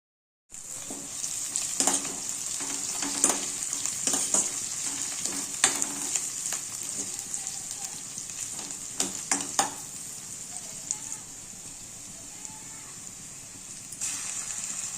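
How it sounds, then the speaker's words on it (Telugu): Tempering spices fry in hot oil as the base for tomato rice: a bright continuous sizzle with sharp spattering pops and stirring clatter, loud and close, no talking. "టమాటా రైస్ చేసుకోవడానికి ముందుగా ఇలా తాలింపు వేసుకొని"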